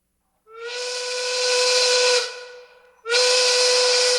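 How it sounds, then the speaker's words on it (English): A loud steam whistle blows in two long, steady tonal blasts separated by a brief fading gap, clear and alone without any voices. "that whistle means that it's time for our 420 safety meeting"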